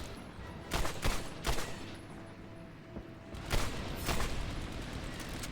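M1 Garand rifle shots in the World War II shooter Medal of Honor Airborne, with several sharp reports in quick succession followed by a couple more a moment later, fairly loud against a rumbling battle background.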